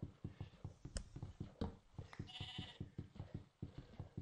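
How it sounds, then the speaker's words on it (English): Sheep in the Minecraft video game bleat repeatedly in short nasal baas, close and clear, over a steady rhythmic clopping and tapping of in-game movement. "Sheep baaing in the background"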